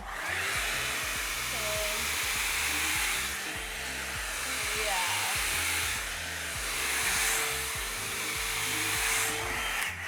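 An INGLAM hair dryer brush blows steadily and loudly while styling hair, with a continuous airflow roar and brushing rustles throughout.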